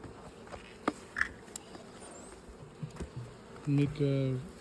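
Honeybees buzzing around a hive with Ukrainian queens, scattered close passes of individual bees humming over faint outdoor ambience, growing louder and steadier toward the end.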